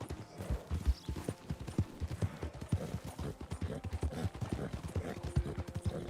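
Hooves of a Black Devil Thoroughbred horse in Red Dead Online clip-clop in a quick, steady rhythm, close and clear, with a faint voice now and then.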